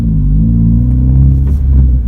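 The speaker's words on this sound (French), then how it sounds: "le moteur tourne à 3500 tours à 130" A Honda Civic Type S with a 1.8 i-VTEC petrol engine cruises at about 3500 rpm at 130 km/h, giving a loud, steady, close engine drone and road rumble with no break.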